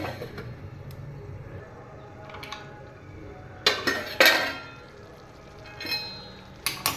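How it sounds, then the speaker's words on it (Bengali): A lid goes onto a cooking pot of bottle gourd and prawns. Two bright metallic clanks land close together midway, with a lighter clink near the end over quiet kitchen background. "এবার এটাকে আমি ঢেকে দেব"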